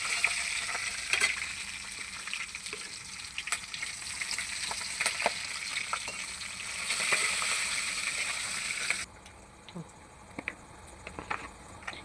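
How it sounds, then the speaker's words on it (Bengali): Bay leaves, dried chillies, cumin and ginger crackling in hot oil, a dense continuous sizzle with scattered pops and a few scrapes of stirring. "ফোড়নে দিয়ে দেবো 2টো তেজপাতা, শুকনো লঙ্কা, জিরে, আর দিয়ে দেবো আদা"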